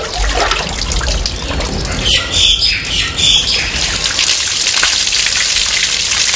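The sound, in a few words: water flowing at a well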